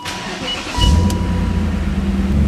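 A personal car with a light clutch pulls away, its engine rising into a steady, close low rumble about a second in and holding there with no one speaking.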